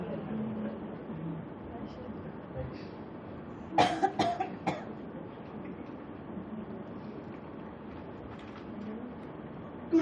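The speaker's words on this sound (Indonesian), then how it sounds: "Ini sampai sekarang saya batuk gak ada yang tahu kan" A man delivering a sermon coughs several times in quick succession partway through, against a background of low rumble, with brief speech around it.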